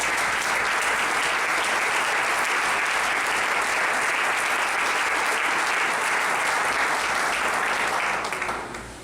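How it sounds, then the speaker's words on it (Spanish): A church congregation at a doctrinal symposium bursts into loud, sustained applause. Many hands clap evenly for about nine seconds before the sound tails off at the close. "Fuerte ese aplauso para el Señor."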